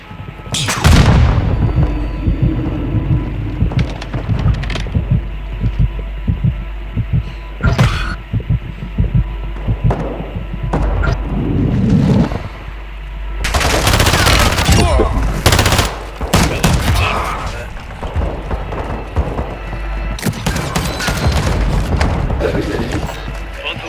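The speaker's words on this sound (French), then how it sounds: "mais Mado il me tire dessus" Gunfire in Warzone 2.0 DMZ mode: repeated bursts of loud, close shots and booms, some rapid and sustained, come in clusters throughout, with players talking over the action.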